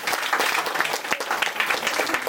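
Audience applause at a Navratri festival bhajan and prize-giving gathering: dense, continuous hand clapping from many people, loud and even throughout without a break.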